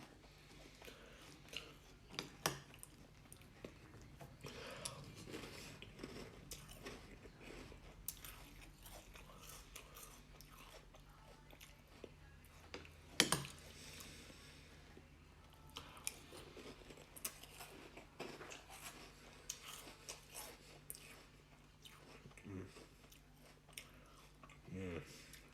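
Someone crunches and chews Cap'n Crunch Berries cereal at close range, with irregular bites and softer mastication spread across the stretch and occasional quiet mouth noises.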